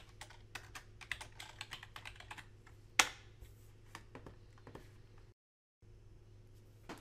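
Computer keyboard keys tapped in a quick, uneven run of close, crisp clicks as a sudo reboot command is typed, with one sharper, louder keystroke partway through and a brief silent gap near the end.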